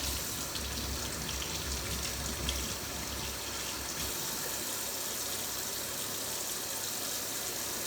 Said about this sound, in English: Rinse that off too.